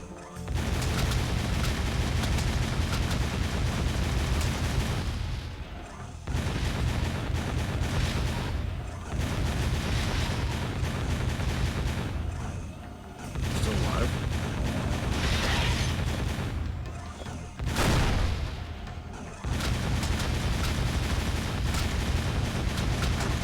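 Turret gunfire and explosions from the PS2 game Jak II, dense and continuous with booming blasts and mechanical clatter, broken by a few brief pauses.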